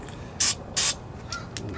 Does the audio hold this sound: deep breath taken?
no